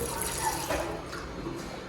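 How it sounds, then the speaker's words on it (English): Water runs steadily from a tap worked by a foot pedal, a continuous close splashing flow with no break, heard alone. "Oh, bingo, water."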